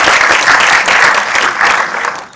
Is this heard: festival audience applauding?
yes